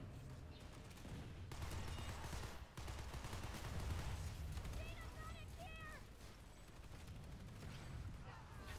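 A T1B Cycler rifle fires in 3-shot bursts during Planetside 2 infantry combat, with dense rapid gunfire and explosions from the surrounding battle, fairly loud and continuous, plus a few faint electronic game chirps.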